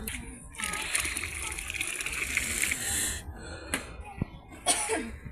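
Water is poured into a cooking pot for khichuri at an outdoor winter night picnic, a steady splashing stream lasting about three seconds, followed by brief clinks, rustles and a short wheezy cough.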